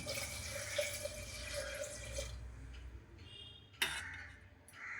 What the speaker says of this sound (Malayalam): ഇനി നമ്മൾ ഇതിനകത്തേക്ക് ആവശ്യമായ കുറച്ച് വെള്ളം കൂടെ ഒഴിച്ചു കൊടുക്കുന്നു